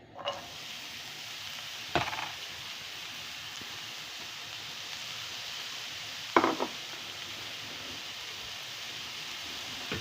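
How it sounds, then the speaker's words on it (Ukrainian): Champignon mushrooms frying in a pan already used for zucchini and eggplant, a soft steady sizzle with a few sharp clinks of a utensil against the pan. "в якій я підсмажувала кабачки і баклажани, я висипаю наші шампіньйони"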